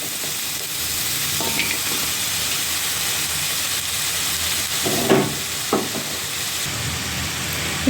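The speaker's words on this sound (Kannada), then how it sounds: "ಇವಾಗ ಕಟ್ ಮಾಡಿ ಇಟ್ಕೊಂಡಿರೋ ಚಪ್ಪದ ಅವರೆಕಾಯಿ ಹಾಕ್ತಾಯಿದ್ದೀನಿ" Finely chopped field beans (avarekai) sizzle steadily in hot oil tempering, a continuous close hiss with a few soft scrapes and clinks of stirring.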